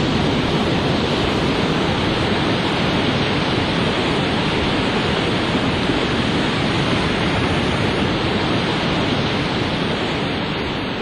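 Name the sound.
ocean waves on the Sinis coast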